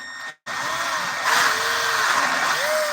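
A power drill fitted with a 9.5 mm bit bores slowly into wood while carving a whistle. A brief pause comes first, then a steady whine runs under faint background noise and rises slightly in pitch partway through.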